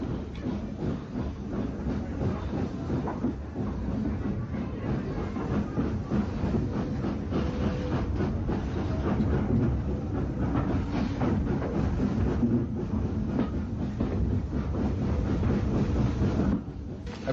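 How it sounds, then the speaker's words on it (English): A Southern Railway N15X class steam locomotive, No. 32329 Stevenson, hauls an enthusiast special toward Brighton with a continuous, muffled rail rumble and rhythmic clickety-clack of wheels over track, sounding like an old archive recording. "N15X Class 460 32329 Stevenson prepares to work an enthusiast special to Brighton"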